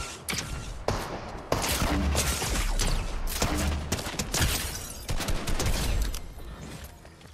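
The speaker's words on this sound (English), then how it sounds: "Oh, I got the grenade launcher." Rapid gunfire bursts and thumping explosive shots from a grenade launcher in the Fortnite video game, loud and repeated across the whole stretch with short gaps between volleys.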